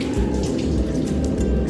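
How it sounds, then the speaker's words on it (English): Water runs steadily from a tap while hands are wetted for washing, a close, continuous splashing stream with no talking. "First, wet your hands with running water."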